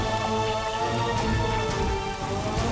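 Heavy rain pours steadily at night, a dense, constant wash of drops hitting surfaces close by, with faint rumbles beneath and no voices.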